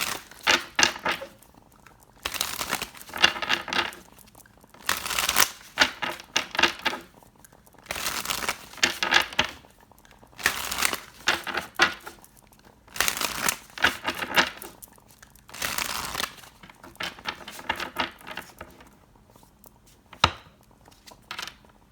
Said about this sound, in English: let's pull some tarot cards to clarify this energy